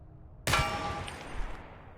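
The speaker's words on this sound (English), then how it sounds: "Realistic bullet ricochet." Metallic bullet ricochet in the shooter game Receiver 2: one sharp, loud clang-like impact that rings with a bright metallic tone and slowly decays over about a second, heard alone.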